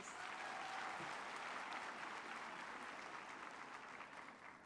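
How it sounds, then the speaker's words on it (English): Applause from an audience at a university humanities faculty ceremony fills the space as a steady, even wash of clapping heard from a distance, fading slightly at the end. "can we give them another applause, please?"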